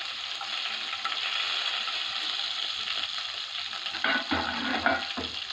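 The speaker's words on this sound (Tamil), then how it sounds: "இப்போது கருவேப்பிலை போடுறேன்." Curry leaves and garlic fry in hot oil with a dense, steady crackling sizzle, close and fairly loud. A few louder spits and pops come near the end, and no one speaks.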